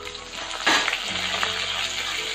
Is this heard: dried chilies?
yes